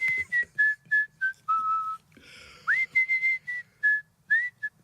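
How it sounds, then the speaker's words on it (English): A person whistles a cheerful tune alone, a string of clear, bright notes in short phrases with brief gaps, including a few held tones and one quick upward slide. "I was actually whistling while I was shopping"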